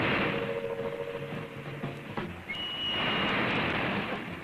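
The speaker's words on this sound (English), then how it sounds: "That's a train coming right at us." Cartoon sound effect of a subway train approaching in a tunnel, a continuous loud rumbling roar with a rising whistle-like tone, heard alone without talk.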